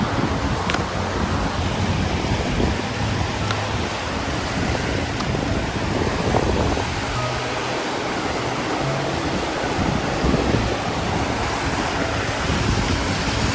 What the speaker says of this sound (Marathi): पाणी वाहतो इकडनं.